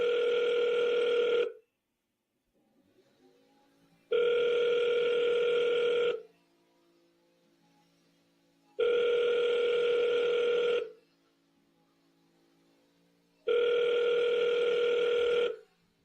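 A telephone ringback tone repeats in four long two-second pulses separated by quiet gaps of a few seconds, steady and clear as a call waits to connect.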